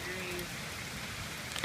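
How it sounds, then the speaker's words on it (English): Steady rain drums on an RV's aluminum roof, a dense, even hiss of drops at moderate volume that continues throughout with no voices. "I'm glad it's raining because it's been like really hot out here"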